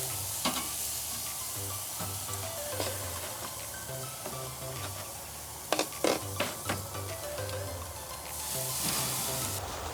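Chicken thighs sizzle steadily over a barbecue grill fire, with a constant close crackle, a few sharp pops and taps near the middle and a low, pulsing hum underneath.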